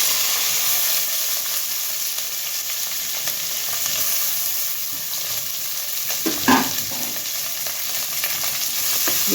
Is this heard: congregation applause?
no